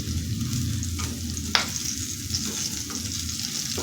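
Chopped hot green chili frying in oil with potatoes for sabudana khichdi, a continuous close sizzle with the occasional spatula scrape and a sharp tap partway through.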